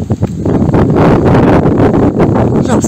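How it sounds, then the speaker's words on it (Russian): Strong gusty wind batters a microphone outdoors by a house and fence, roaring steadily and loudly for the whole stretch with fluttering bursts. "Ужасный ветер, ужасные порывы."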